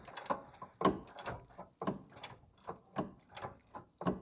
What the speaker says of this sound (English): So just loosen those up.